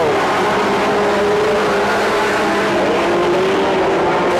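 Mini stock race cars roar around the Petaluma Speedway oval in a loud continuous engine drone, several motors blending into a steady howl with a slowly shifting pitch.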